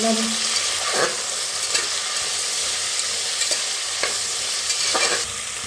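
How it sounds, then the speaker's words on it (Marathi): Cauliflower and potatoes frying in a pan for gobi pulao, a loud steady sizzle broken by several scraping stirs at irregular intervals, close up. "फुलगोबी बटाटो भाजून घेऊया आता"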